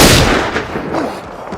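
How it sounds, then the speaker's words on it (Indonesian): Gunfire in a film shootout between a lone fighter and a gang of gangsters, heard as a loud, dense wash of blasts and reverberating booms that opens at full strength and then rolls on through the clip. "Setelah ledakan itu, terjadi baku tembak antara Link dan semua anggota gangster."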